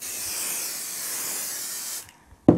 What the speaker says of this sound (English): if you're spray basting, I suggest having a window open